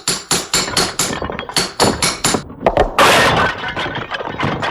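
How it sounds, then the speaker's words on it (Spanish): A hammer strikes and smashes a sculpture apart: a run of sharp, loud, evenly spaced blows, then a burst of shattering and crumbling fragments, with further scattered knocks afterward. "E hizo añicos la monstruosa obra"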